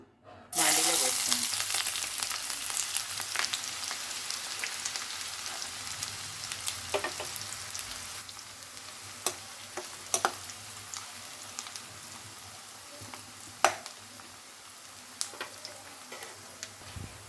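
Sliced onions and green chili hit a hot pan with a sudden loud sizzle that settles into a steady, fainter frying hiss, dotted with sharp spatula taps and scrapes.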